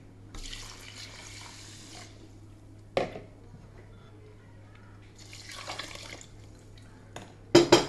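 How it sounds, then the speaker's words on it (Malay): Water is poured from a tap into a pot of washed rice for Bombay dum biryani, short splashing bursts separated by quiet pauses, with a sharp clatter of cookware near the end. "Okey, kita masukkan air."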